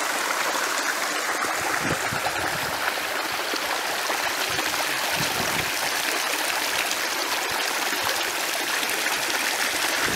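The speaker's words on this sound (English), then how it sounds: "the water's flowing down there nicely" Steady flowing stream water near a pond runs continuously with a dense, bright rushing and trickling texture, close and even throughout, with no voices.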